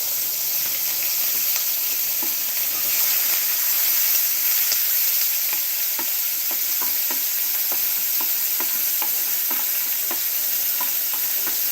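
Seasoned meat sizzles and fries in a pot on a coal stove, a loud steady hiss with scattered small pops and crackles running the whole time, no talking.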